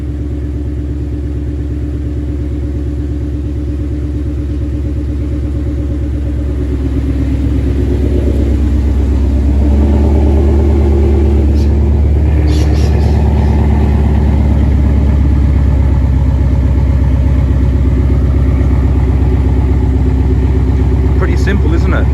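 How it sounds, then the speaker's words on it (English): A 2020 Ford Mustang GT with a ghost cam tune idles in its loudest exhaust mode, a deep, lumpy rumble close by that swells louder partway through and holds steady, with a brief sharper blip near the end. "We put it on the loudest exhaust mode."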